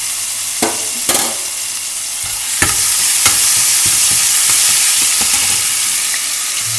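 Whole cloves, three cardamom pods, star anise and a bay leaf crackle and sizzle in hot oil for a mushroom sukka, with sharp pops and spoon clinks early on, then a steady, close frying hiss with no talk.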